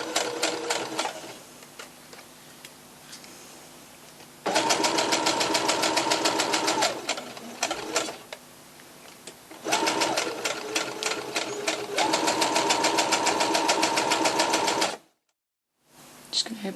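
A sewing machine stitches and back stitches a decorative kitchen towel, running in long loud bursts of rapid needle chatter with short pauses between, while a person talks over the quieter gaps.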